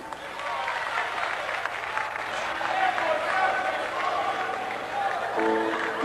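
Audience applause for a singer at an awards ceremony, a sustained, even roar of clapping from a large crowd with light cheering and some talk beneath.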